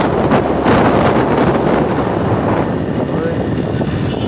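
Cold morning wind blows across an open road, roaring steadily against the microphone in loud, continuous gusts with no break.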